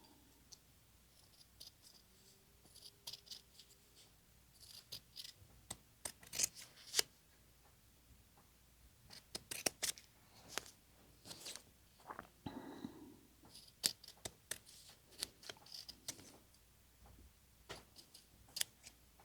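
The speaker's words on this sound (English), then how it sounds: "we're going to swap out our scissors. Try these, see if these do better." Scissors snipping through fabric while a quilted denim jacket gets scrappy appliqué, as a set of scissors is swapped out mid-task: quiet, irregular crisp cuts and rustles arrive in bursts, close and soft, with no talking.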